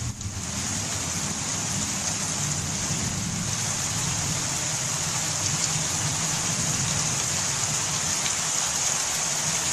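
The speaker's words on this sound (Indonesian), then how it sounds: "Nah, hujan." Steady heavy rain pours down in a constant dense hiss with a low rumbling undertone, unbroken and close for the whole stretch.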